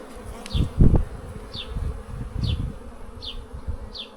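Honeybees buzzing around an opened beehive during frame inspection, a steady close hum under soft handling thumps and low-frequency knocks, with brief higher buzzes as individual bees fly past the listener.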